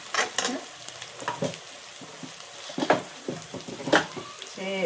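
Tempering sizzles and fries in hot oil for a Telangana-style nalla (mutton) curry, with crackling bursts and stirring clatter close by under a continuous hiss.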